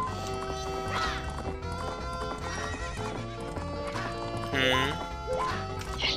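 A horse galloping in Zelda Majora's Mask, with steady clip-clop hoofbeats and neighing whinnies over game music, with a louder crash near the end.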